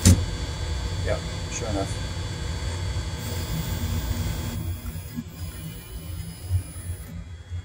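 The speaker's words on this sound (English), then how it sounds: "the spindle, I think, will hit the side before the machine hits the bracket." An MPCNC Primo CNC machine moving a DeWalt spindle gives a steady stepper-motor whine and hum, with someone speaking briefly over it before it quiets.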